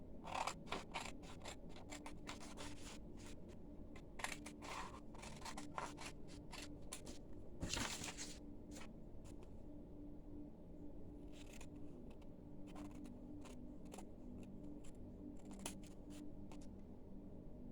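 Paper being cut out for a journal with scissors, giving a dense run of close, crisp snips and rustles over steady background noise that grow sparser toward the end.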